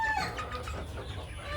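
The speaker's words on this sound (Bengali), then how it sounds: "এই যে মুরগিটা, এই যে দাঁড়িয়ে আছে, এই মুরগিটা সম্ভবত ডিম পেড়েছে।" Young laying hens, under four months old, cluck in their coop, a steady run of close fowl calls over low background rumble with no talk.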